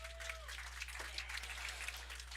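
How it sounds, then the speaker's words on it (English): Baseball crowd at a small-town ball game giving a round of applause, thin and scattered clapping heard from a distance over a steady low electrical hum. "Round of applause,"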